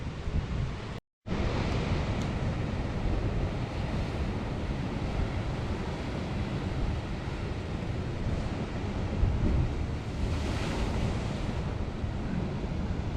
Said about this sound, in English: the waves have now started surging once again, and the amount of water, it's just biblical proportions